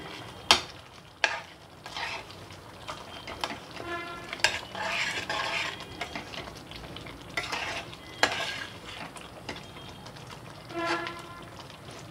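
A spoon stirs paneer malai gravy in a pan, making repeated scraping strokes and a few sharp clanks against the metal over a soft bubbling sizzle, close and clear with no voices.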